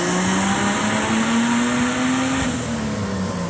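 Turbocharged Jeep Wrangler engine revving hard on a dyno, a loud, steady high-rpm roar with a rising whine and turbo hiss, easing slightly near the end.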